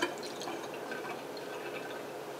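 Alkaline bottled water is poured out in a faint, quiet trickle with soft splashing and dripping.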